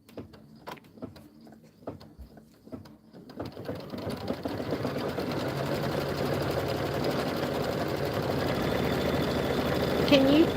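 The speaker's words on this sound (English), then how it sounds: "Let's go ahead and quilt." An embroidery sewing machine runs a quilting stitch on a bunny-trail bench pillow border. After a few clicks it starts up, and a steady whirring hum builds and stays close and constant while people talk.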